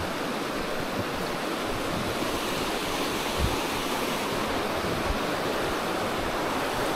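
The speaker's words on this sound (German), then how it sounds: "das ist nur ein Rauschen vom Fluss" A river rushes on a Harz mountain hike, its steady broadband roar filling the air evenly and fairly quietly, with no voices present.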